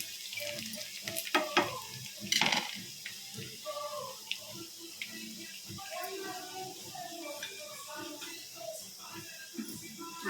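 Meal maker biryani ingredients frying in a pan at home, a soft steady sizzle with occasional stirring clinks and scrapes, mixed with water and kitchen noises under nearby background voices.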